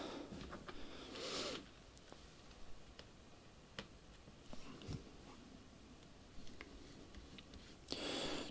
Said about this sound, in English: just undo the two screws